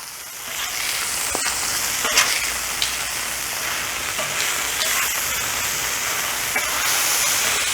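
Smashburgers sizzling on a Blackstone griddle just after being flipped, a loud continuous hissing fry with occasional light scrapes and ticks, steady and close throughout.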